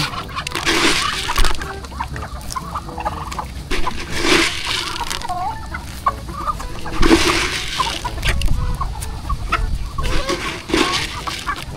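Several chickens being fed cluck and squawk close by, busy and overlapping, with occasional louder calls and scratchy rustling throughout.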